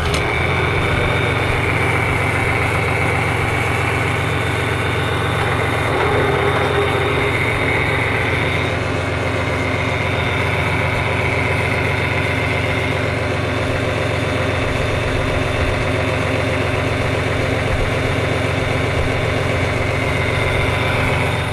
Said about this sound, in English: Now we're gonna start the tractor and engage the PTO.